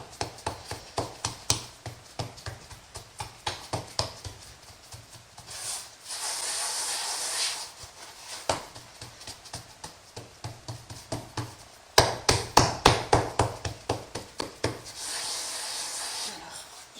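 Hands flatten batbout bread dough, making soft, rhythmic pats and rubbing strokes close by, in bursts with brief hissy pauses between them.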